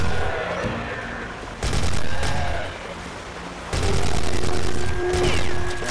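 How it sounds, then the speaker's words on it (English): Submachine gun fire in the Dino Strike video game, loud sustained automatic bursts in two long stretches separated by a brief lull, dense rapid shots filling the whole clip with no talking. "Gonna switch to submachine gun."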